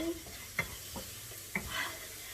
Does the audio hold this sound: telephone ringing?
no